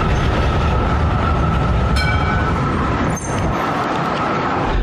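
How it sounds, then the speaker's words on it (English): A tram passes close by along street tracks in a loud, continuous roar of rumbling wheels, with brief metallic squeals and a sharp clank partway through. "I definitely just got in the way of a tram."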